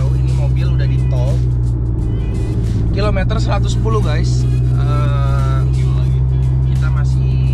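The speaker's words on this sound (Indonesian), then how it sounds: "Pokoknya gua kasih tahu ini mobil udah di tol." Steady road rumble and tire drone from a modified Mitsubishi Lancer EX styled as an Evolution X, cruising on an Indonesian toll highway toward Cirebon, heard from inside the cabin with someone talking over it throughout.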